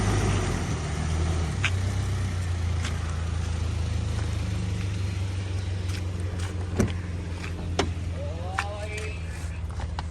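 A 2015 Toyota Land Cruiser Prado TX Limited with 43,000 km runs with a steady low engine hum throughout, joined by a few short clicks and a faint whine near the end, with voices talking over it.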